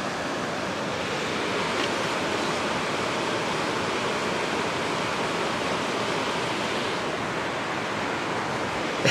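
Rushing water of a mountain stream in the Crazy Mountains, a dense, steady roar of flowing water close by, constant and unbroken with no voices.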